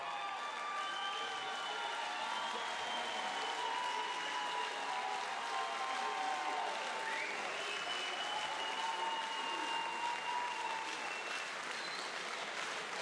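A boxing-event audience applauds both fighters with sustained, dense clapping that fills the hall evenly, while an announcer's voice can be made out faintly beneath it.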